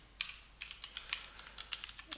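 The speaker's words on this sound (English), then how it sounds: "then I will type my Gmail account" Typing an email address on a computer keyboard: a quick, irregular run of light key clicks, close and fairly quiet, with no voices.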